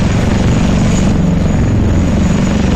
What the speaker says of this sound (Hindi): बम, गोला, बारूद और मिसाइल लेकर ये ड्रोन उड़ गया।